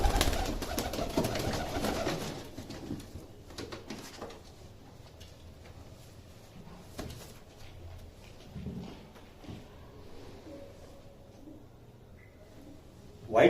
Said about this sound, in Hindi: व्हाइट आइज का कबूतर है